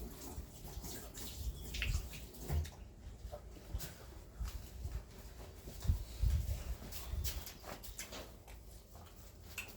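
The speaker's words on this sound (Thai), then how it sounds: "ไปล้างมือก่อน" Someone washes their hands under running water at home, with a steady splashing stream and intermittent louder gushes. Occasional clatters sound against a busy household background.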